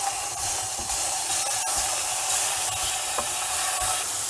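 Paneer cubes sauté in ghee in a pan with a constant close sizzle and hiss, broken by occasional scraping and stirring clicks.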